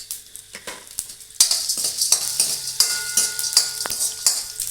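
Mustard seeds, urad dal and chana dal sizzling in hot oil for a chutney tempering: a loud, crackling fry that jumps up suddenly, dotted with sharp pops and spoon-stirring clinks against the pan.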